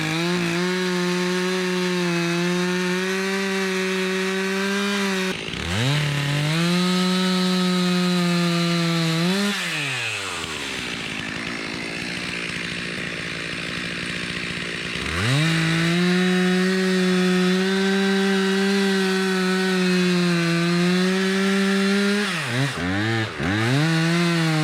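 Chainsaw trimming branches around a hunting tree stand, the engine revving loud and steady with several short dips where the throttle drops and rises again, running close and alone.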